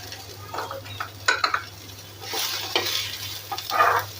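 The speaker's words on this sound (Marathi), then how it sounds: "मी दोन कांदे मिडियम साईजचे असे चिरून घेतलेत ते आपल्याला भाजून घ्यायचे" Two medium chopped onions frying in a pan for a Maharashtrian soybean bhaji, a close sizzle with bursts of spatula stirring and scraping against the metal.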